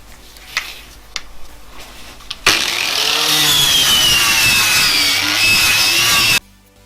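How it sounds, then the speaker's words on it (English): A knot wheel scours oxidisation off welded front chassis repairs on a Mazda MX5. A few sharp taps come first, then the tool whines up into a loud, continuous abrasive grinding for about four seconds before stopping abruptly. "I'm going to go along with a knot wheel, clean any oxidisation off."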